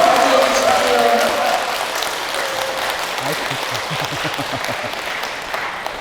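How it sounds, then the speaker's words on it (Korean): An audience applauds to welcome a priest arriving for a talk, a dense continuous wash of clapping that begins loud and settles slightly, with a voice speaking over it partway through. "큰 박수로 맞이해 주십시오."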